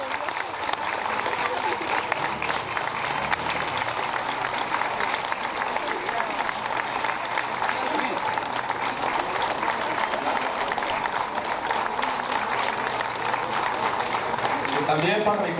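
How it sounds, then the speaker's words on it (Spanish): A long, sustained round of applause from a crowd at a dance with Los Banda Jr de Salamanca, dense continuous clapping with cheering voices and crowd noise throughout. "queremos un minuto de aplausos, si nos pueden brindar todos ustedes"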